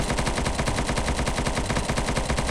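Rapid automatic gunfire from a 3D guns addon in Minecraft PE, a video game, with dense evenly spaced shots firing continuously and loud throughout.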